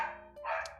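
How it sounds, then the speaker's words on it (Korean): A pet dog barks indoors in a home, two or three short barks close by, with the second burst louder and fuller than the first, heard alone over a quiet background. "개 짖는 소리는 예, 양해해 주시고요"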